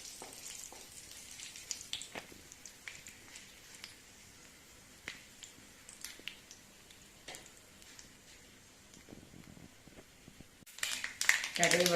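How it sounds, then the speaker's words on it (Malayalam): Mustard seeds pop in hot oil with dried red chillies in a pan, sharp irregular crackles and snaps over a low sizzle, growing busier and louder toward the end. "കടുക് പൊട്ടി"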